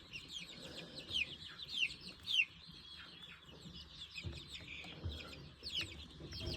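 Plymouth Rock chickens in a barn with baby chicks, repeated bright clucks and chirpy calls scattered over a steady low background, moderately near and fairly soft.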